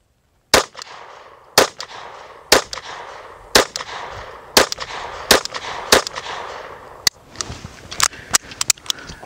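CCI Stinger .22 rounds are fired at a target outdoors, about a dozen sharp, loud shots at a steady pace of roughly one per second, with a quicker cluster of shots at the end.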